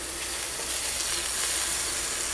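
Mushrooms sauté in hot oil in a pan with a steady, dense sizzle that fills the moment, close and even, no voices over it.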